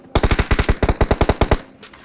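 Rapid automatic gunfire in the mobile battle-royale game PUBG Mobile, about a dozen loud, closely spaced shots in a steady burst, then a brief pause and a fainter trailing sound, with no talk.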